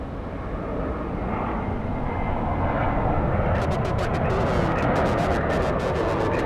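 Southwest Airlines airliner at Los Angeles International Airport, a broad roaring jet engine rumble that swells and holds steady from a distance, with faint chirping or clicks layered on top in the second half.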